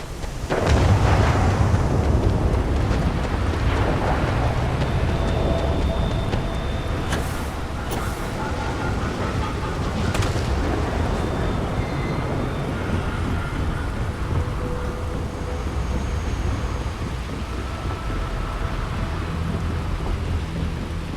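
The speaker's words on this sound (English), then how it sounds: "Unless you like getting soaked by the rain." Steady heavy rain pours throughout, with a few distant thunder rumbles and sharp cracks, in the rainy weather of the video game Starfield.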